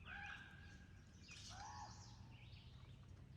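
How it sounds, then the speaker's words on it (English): Birds cackling outdoors at a campsite near a Tioga County bridge, a faint jumble of overlapping chattering calls and squawks against a constant low rumble of background noise. "Those damn birds have been going on for about 10-15 minutes now."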